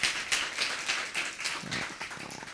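Applause from a live audience for Natalie Isaacs at a BangkokEdge 2020 talk, a steady wash of moderately loud clapping from many hands, with no one speaking over it.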